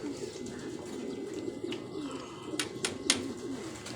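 Racing pigeons cooing near a home loft as birds return from a race, with steady low coos throughout and a few brief sharper flutters or chirps toward the end.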